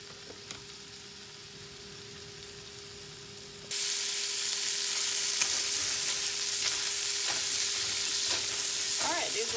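Sausage sizzles in a pan for a keto breakfast, a low hiss that jumps abruptly to a loud, steady, close frying roar partway through, with faint clicks and scrapes of utensils.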